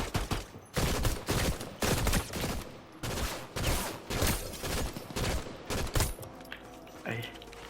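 Video game gunfire in a battle royale match: repeated bursts of loud close shots in quick clusters, with a quieter tail at the end.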